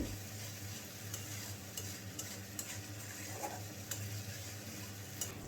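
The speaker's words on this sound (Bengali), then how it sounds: "মশলাটা ততক্ষণ পর্যন্ত কষাবেন যতক্ষণ পর্যন্ত না এর থেকে তেলটা ছেড়ে দেয়" Spice paste being stir-fried in oil for a katla fish curry with radhuni paste, a quieter steady sizzle with periodic sharp clicks of the spatula against the pan.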